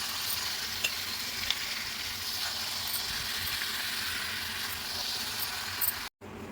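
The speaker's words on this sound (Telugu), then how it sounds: "మటన్ అంతా దీంట్లో వేసుకున్నాక ఆ పోపు అంతా కలిసేలాగా కలుపుకోవాలండి." Mutton is stirred in a pan with a spiced tempering, frying in a steady close hiss and sizzle with faint scraping, followed by a brief cut near the end.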